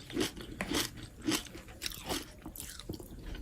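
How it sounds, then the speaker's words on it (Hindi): Rice chikki, a crisp jaggery-bound brittle, crunches loudly as it is bitten and chewed, with several sharp crackling bites in a row, close and alone with no talk. "तो आइए हम आपको इसका क्रिस्पी और क्रंचीपन सुनाते हैं"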